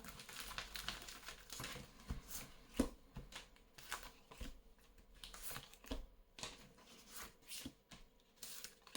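Tarot cards being shuffled and drawn at close range, a run of soft papery riffles, slides and flicks in irregular bursts with short pauses between them.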